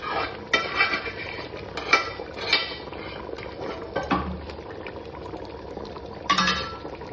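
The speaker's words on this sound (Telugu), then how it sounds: "చూడండి చక్కగా ఇలా కలుపుకోవాలి" A spoon stirs gongura mutton curry in a pot, giving several clanks and scrapes against the metal over a soft wet churning, close by and with no talking.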